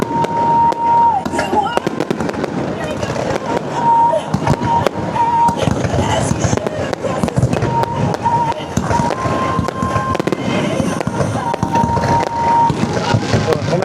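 Fireworks bursting over Vũ Yên Island in Thủy Nguyên, Hải Phòng, a dense rapid barrage of loud cracks and booms with excited voices talking nearby.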